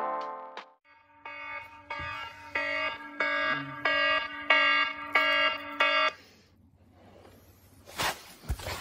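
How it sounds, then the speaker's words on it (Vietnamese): An alarm clock rings early in the morning before 4:30, sounding a series of loud, regular electronic beep bursts in an even pulsing rhythm, then stopping, followed by quiet room sound and a brief rustle. "đây là cái báo thức đầu tiên"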